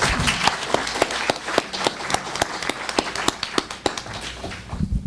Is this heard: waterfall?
no